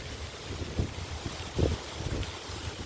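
Gusty wind blasting the microphone outdoors at Fort Halifax, with a constant roar and several louder thumping gusts, close and rough, no talking.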